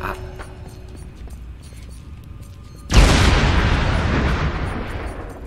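A bomb detonates in Dead Rising 4 inside a dark tunnel: a single loud, broad blast that follows a quieter stretch of low rumble and faint clicks, then a long roaring, crackling decay that fills the rest of the moment.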